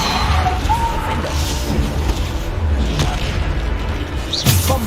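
In the Hogwarts Legacy video game, a Bombarda explosion spell goes off amid dense, loud combat noise, with a sharp blast and crash near the end.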